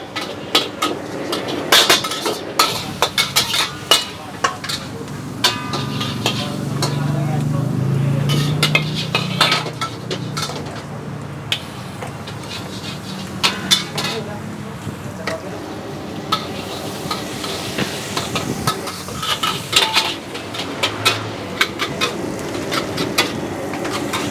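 Basil fried rice stirred in a hot wok: a steady sizzle with repeated sharp scrapes and clanks of a metal spatula, a voice speaking intermittently over it.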